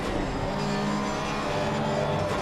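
A Porsche race car engine roars loud and continuous in Assetto Corsa Competizione at the Hungaroring, a dense, unbroken drone with no gaps.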